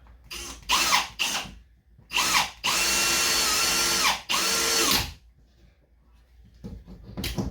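A power drill drives a single screw while running a new water line from a shower connection, heard as several short bursts and then two long, steady whirring runs, loud and close, with brief gaps in between.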